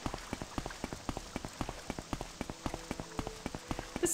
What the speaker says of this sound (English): I apparently get to walk through the rain all the time